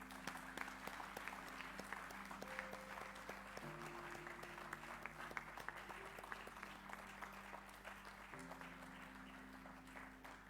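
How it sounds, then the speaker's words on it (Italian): An auditorium audience at an anniversary edition of a city prize ceremony applauds in remembrance of a person, sustained steady clapping over a soft musical backing for about ten seconds. "lo ricordiamo con un applauso"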